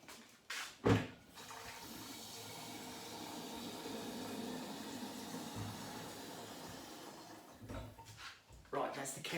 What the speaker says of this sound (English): I'll just tip this water away and I'll put some fresh in there.